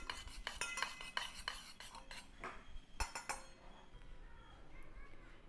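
Spoon clinking and scraping against a small bowl or cup while mixing spice powders including dry ginger powder, with repeated sharp metallic taps in an irregular rhythm, close and moderately loud, no talk.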